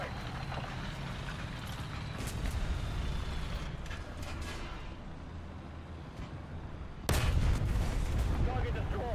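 An artillery strike lands in the War Thunder tank game: rolling distant booms and gunfire rumble throughout, then a sharp, louder impact blast, with people talking over the battle.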